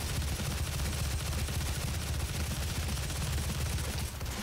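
Rapid, dense gunfire from a newly picked-up weapon in a Doom SnapMap level, a loud continuous burst of shots filling the whole stretch with a heavy low rumble and no talking.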